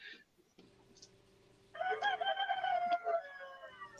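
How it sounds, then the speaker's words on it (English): Chickens cluck and a rooster crows at some distance, a drawn-out crow rising after a quieter stretch of faint clucks, with low background hum and no clear talking. "See, that is a chicken I'm hearing."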